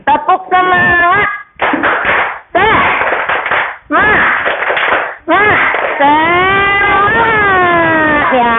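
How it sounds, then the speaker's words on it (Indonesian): Students standing in a classroom do a rhythmic spirit clap, sharp patterned claps in bursts mixed with loud chanting children's voices. "Ya, tepuk semangat."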